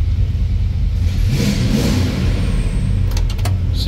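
A 1978 Dodge D150 Adventurer pickup with a 440 Magnum V8 revs with a deep, loud rumble, rising in a surge midway, then settling into a steady idle with a few clicks near the end.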